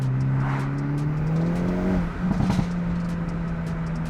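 Tuned 2022 Hyundai Elantra N engine on a test pull, with a steady drone whose pitch rises before a burst of rough popping, then a settled hum under a loud, constant close interior rumble.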